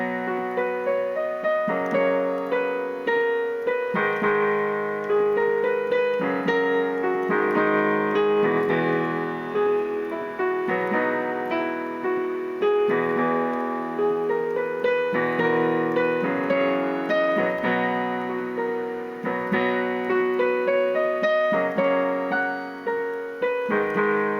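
Piano plays the melody of the Naruto Shippuden opening, picked out as a steady stream of clear notes that carry on without pause for the whole stretch, loud and close with no voices.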